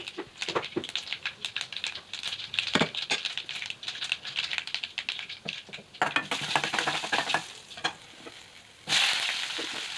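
Dense crackling and popping of mustard seeds frying in hot oil, continuous and close, with sharp bursts of spattering throughout.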